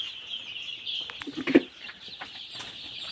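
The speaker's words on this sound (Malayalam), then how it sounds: "ഈ കാണുന്നതാണ് B B three eighty original കോഴിക്കുഞ്ഞുങ്ങൾ" BV380 chicks crowd a poultry farm and peep constantly, a high, dense chorus of cheeping with a few louder clucks and flutters near the middle, moderately loud and close, with no talk.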